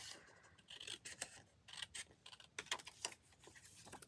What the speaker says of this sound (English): Let's try trimming off the label.